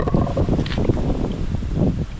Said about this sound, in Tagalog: Grabe mga kalahi, lumalakas ang hangin